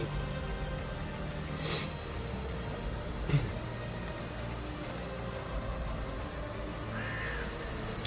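A crow cawing in the video game Darksiders 2: a few scattered caws, roughly one every couple of seconds, over a quiet, steady game ambience.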